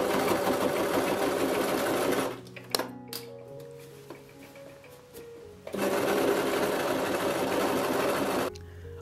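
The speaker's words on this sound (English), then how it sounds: "we can take it to the sewing machine" A sewing machine stitching fabric runs in two loud, rapid stitching bursts separated by a pause of clicks and light rattling.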